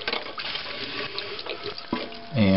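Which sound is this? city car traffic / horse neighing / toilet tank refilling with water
toilet tank refilling with water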